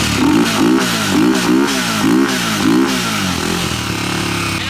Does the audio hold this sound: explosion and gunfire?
no